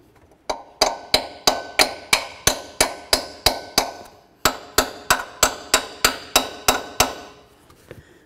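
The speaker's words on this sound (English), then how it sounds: "Take a nice little hammer and bonk on these from the back side towards the front." A small hammer strikes metal in a steady series of about eighteen sharp, ringing taps on a 2003-04 Chevy Silverado alternator, close by, with a brief pause midway and a faint final knock.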